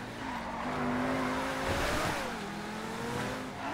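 A McLaren 720S in GTA 5 driving fast, its engine droning and rising while tires squeal in a sustained skid, loud and close with no talking.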